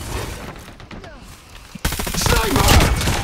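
Gunfire in a shooter video game, sharp bursts of rapid shots that grow denser and louder in the second half, with a voice partly under the firing.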